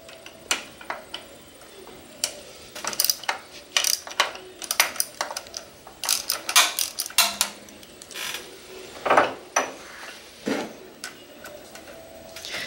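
A ratchet with a 10mm socket works a screw loose on a 2011-2015 Suzuki GSXR 600, producing close, irregular bursts of sharp clicking and metallic ticks with brief pauses between strokes.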